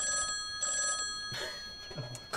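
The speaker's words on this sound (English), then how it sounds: "Maude Montgomery pulls out an old rotary phone" An old rotary telephone ringing in two short bell bursts with a brief gap, bright and close, followed by a few soft thumps and rustles.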